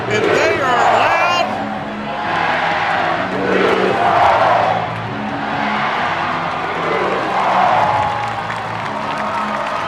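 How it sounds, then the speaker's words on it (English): A loud, roaring football crowd at Bowers stadium during a Sam Houston Bearkats FCS playoff game, steady and dense with swelling yells and chants, with a commentator's voice talking over it. "The crowd is electric here at Bowers, yelling Sam Houston."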